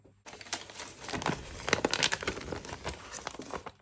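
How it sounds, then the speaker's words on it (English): Sheets of paper rustle and crinkle as they are handled, close and fairly loud with irregular crackling bursts throughout and no speech. "Let me get my other piece of paper."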